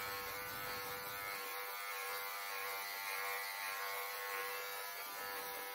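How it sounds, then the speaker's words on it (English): Electric dog clippers grooming a terrier mix, a steady high buzz that stays constant and close, its low tone shifting slightly as the blades move through the coat, no talking. "Let the clipper do the work. You don't have to press hard."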